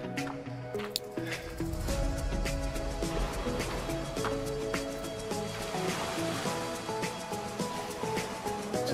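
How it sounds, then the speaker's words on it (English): Ocean waves wash and break on the shore at Benidorm, a continuous soft rush with fizzing surf and occasional splashes, fairly quiet and steady with no talking. "Just love the sound of the ocean."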